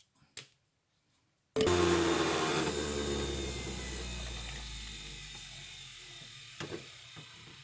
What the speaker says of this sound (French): Vous les mettez directement entières dans votre centrifugeuse.